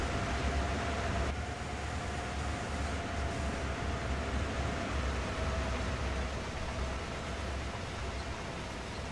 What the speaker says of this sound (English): I love standing up here and watching the train zip past.